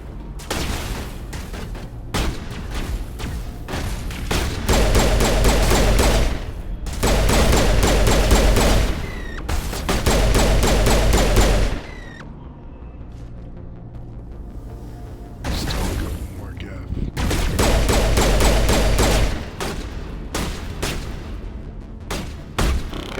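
Heavy gunfire from a Geth attack in the video game Mass Effect, loud sustained bursts of automatic fire in several waves separated by short lulls of quieter combat noise.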